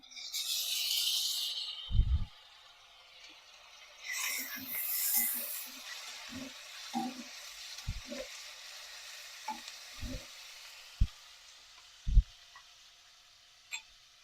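Two large finely chopped tomatoes hit hot oil in a pan for a curry, giving a loud sizzle at first that fades to a quieter steady frying hiss, with a few soft knocks and spoon taps.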